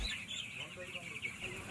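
Chickens on a poultry farm cluck and chatter continuously at close range, several birds overlapping in a low, busy murmur.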